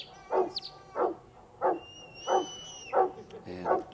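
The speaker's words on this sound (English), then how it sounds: "I don't think the sheep will have any trouble hearing" Sheepdog at a New Zealand sheepdog trial barking six times in an even rhythm, loud and close, with a high whistle sounding in the middle.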